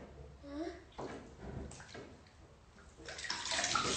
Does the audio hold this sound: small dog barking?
no